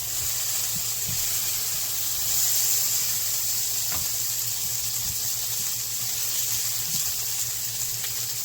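Soft steady hiss of a roti laid on a hot tawa griddle in a home kitchen, a continuous low sizzle running throughout with a few faint clicks, no talk.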